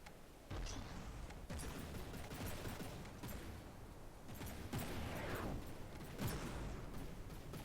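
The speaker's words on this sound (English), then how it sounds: "See the missiles coming in" Missiles fire in a gunboat battle video game fought with missiles, torpedoes and custom cannons, producing a continuous, loud barrage of overlapping blasts and whooshing launches with a few sharper bursts standing out.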